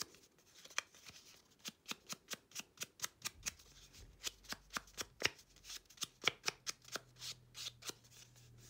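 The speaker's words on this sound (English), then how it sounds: "I'm just going to sponge the edges because there's plenty of ink on that from sponging my card front." Sponging ink onto the edges of a paper card, a steady series of soft, quick dabbing taps, close and quiet with no talking.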